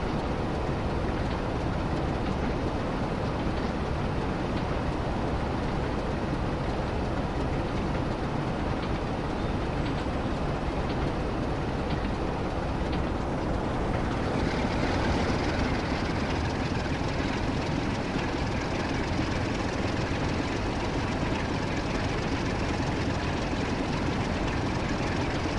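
Train running steadily in the Train Sim World game on the line toward Manchester, a continuous loud engine and rail rumble with no talk, its tone shifting slightly partway through.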